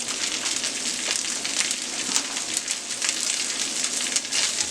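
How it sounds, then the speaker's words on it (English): Hash browns frying in a pan for a Denny's-style breakfast slam, a dense steady sizzle and crackle close up, with no talk over it. "We just come with our hash brown. Throw those in there just like so."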